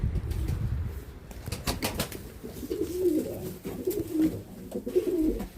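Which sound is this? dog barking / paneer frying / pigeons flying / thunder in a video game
pigeons flying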